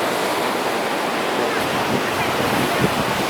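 High, strong ocean surf roars continuously at Ngobaran beach, a loud, dense wash of breaking waves heard close, with no clear voices above it.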